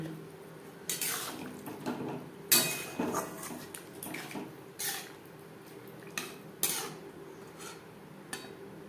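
Water goes into a pan of spices sizzling for a fish-bone gravy, with clinks of utensils and pot sounds scattered through, close and moderate in level, no talk.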